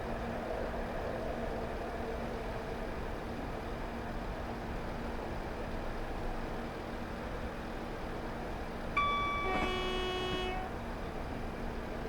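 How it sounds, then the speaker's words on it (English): Horn of a Class 159 DMU on the Riviera Line in Train Simulator 2019, one short two-tone blast sounding near the end over a steady low engine drone. "It's a lot of honking of the horn when you pay attention to it."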